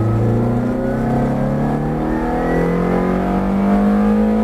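A Ferrari F430 accelerating on a racetrack, heard loud and close from onboard, its engine note climbing steadily through the revs with a brief shift near the end.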